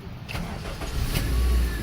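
A car engine cranks and catches, settling into a close, steady low rumble after a few brief mechanical clicks, with no voices.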